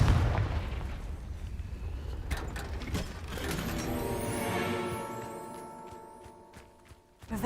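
A Confringo blast spell from a Harry Potter wizarding video game, a heavy, rumbling explosive burst with mechanical rattling and a long, fading tail that ends in a sharper crack.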